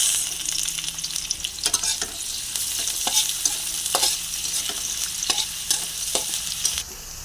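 Garlic sizzles in hot oil in a pan for chicken kalderata, a continuous bright frying hiss broken by regular scraping stirs of a utensil against the pan, close and without talk.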